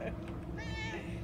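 A cat in the video game Murdered: Soul Suspect gives one short, clear meow midway, heard over a low game background with a person talking around it.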